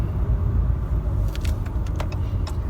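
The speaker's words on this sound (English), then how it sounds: "That's some good acceleration there." A 2019 RAM 3500 dually pickup pulls away under acceleration, its low engine rumble steady and loud throughout, with a few light jingling rattles near the end.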